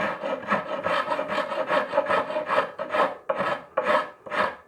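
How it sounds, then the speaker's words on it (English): Carving file rasping away excess wood on a guitar body, about a dozen rhythmic strokes at a steady pace, close and clear with no talk. "carving files and I'm just going to want to work away at some of that excess and just bring it a bit closer to the edge"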